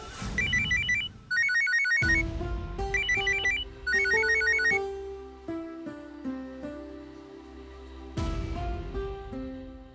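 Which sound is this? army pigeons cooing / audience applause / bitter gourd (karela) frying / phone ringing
phone ringing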